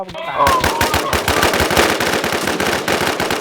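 Loud, close automatic gunfire rattles in rapid bursts during a match of the online survival shooter Infestation, with sharp repeated shots and brief gaps between volleys.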